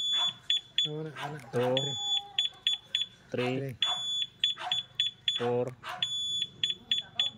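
A two-way motorcycle alarm on a Honda Click v3 gives short, high, repeated beeps in quick bursts while someone talks and counts numbers over them.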